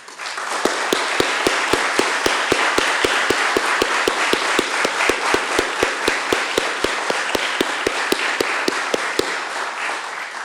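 Audience applause honoring military veterans at a St. Tammany Parish Schools committee meeting, a loud, dense wash of clapping that holds steady for about ten seconds, marked by a regular train of sharp, evenly spaced taps cutting through it.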